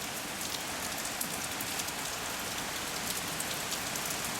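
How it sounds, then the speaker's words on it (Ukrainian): Steady rain falls on surfaces in a dense, even hiss of drops with no voices, faint and unbroken throughout. "Дивіться, Дощ який пішов, так?"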